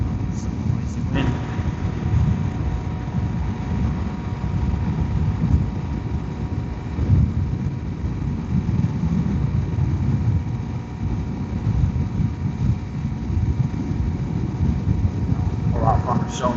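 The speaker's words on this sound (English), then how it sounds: "Some noisy wind." Strong wind buffets steadily at a roadside shoulder, a loud, continuous low rumble and roar with gusty swells, steady throughout the whole stretch.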